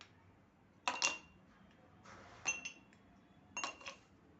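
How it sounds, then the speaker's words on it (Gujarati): Ice cubes dropped into serving glasses for a raw mango and mint sherbet, three separate bursts of bright clinking and rattling against the glass, spaced evenly and heard clearly against a quiet background. "શરબતને સર્વ કરવા માટે આપણે સર્વિંગ ગ્લાસ લીધા છે અને તેમાં આપણે આઈસ ક્યુબ નાખીશું"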